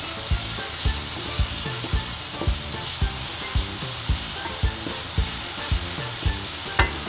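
Merguez filling sizzles steadily in a pan with a little water boiling off, while a utensil stirs and scrapes it in a regular rhythm of roughly two strokes a second, close and clear with no talk.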